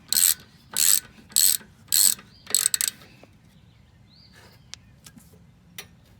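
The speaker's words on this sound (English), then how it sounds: "Now I'm just gonna tighten it down." Ratchet tightening a caliper mounting bracket bolt on a Jeep's rear brakes: five quick, loud bursts of clicking in a steady rhythm, close up, followed by quieter faint ticks and a light hum, with no talking.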